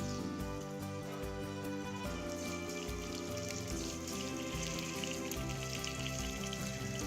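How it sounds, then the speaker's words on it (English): Halibut fillet frying skin-down in hot oil in a pan gives a steady, even sizzle that runs the whole time, partly masked by a continuous musical background. "I like to put the fish skin down so that gets crispy"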